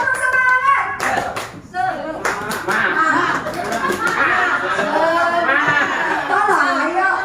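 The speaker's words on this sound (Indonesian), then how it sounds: "Ayo coba tepuk semangat." A group performs a 'tepuk semangat' spirit clapping chant, with rhythmic claps in bursts near the start, then continuous voices and chatter over more clapping throughout.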